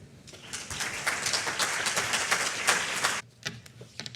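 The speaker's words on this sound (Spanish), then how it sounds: "Pido un aplauso para ella." Conference attendees at a pharmacy faculty panel applaud the moderator as she takes the stage, dense clapping for about three seconds that stops abruptly, followed by a few scattered claps.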